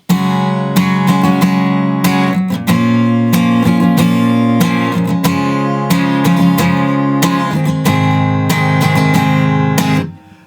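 Strummed guitar chords ring out in a steady rhythm, moving through several changes of a song's chord progression for about ten seconds before stopping abruptly.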